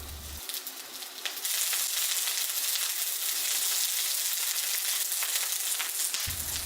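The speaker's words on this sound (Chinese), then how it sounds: "开中火，锅热后加点油， 加进姜、葱白炒香" Ginger and scallion whites hit hot oil in a wok over medium heat, bursting into a loud, steady hiss of frying that stays even and close for several seconds, with no talking.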